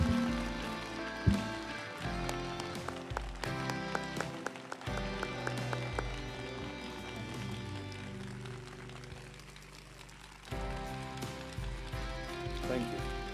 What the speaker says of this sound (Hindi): क्या हम सब मिलकर ऐसी ताली जो हमने आज तक नहीं बजाई है यीशु के लिए बजा सकते हैं?